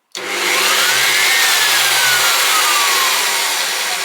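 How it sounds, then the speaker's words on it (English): A metal-cutting bandsaw bought from Amazon, with a cast iron vise, starts abruptly and runs steadily, a loud close motor whine with a rushing blade hiss that holds for several seconds. "When you're ready to operate the saw, you flick the red switch to the on position and quite simply squeeze for on, release for off."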